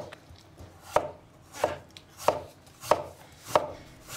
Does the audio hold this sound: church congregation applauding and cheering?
no